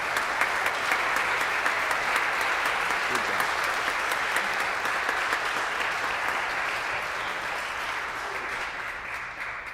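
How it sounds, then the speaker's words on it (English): Steady audience applause fills a concert hall at a Minnesota all-state Lutheran choir concert, a dense wash of many hands clapping continuously without pause at a fairly even level throughout. "Would you please give her a round of applause?"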